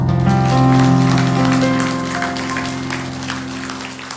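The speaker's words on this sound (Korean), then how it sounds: "우리 하나님께 영광의 박수." A church congregation clapping during a Sunday service, layered over sustained instrumental music; the dense patter of many hands starts loud and gradually tapers off.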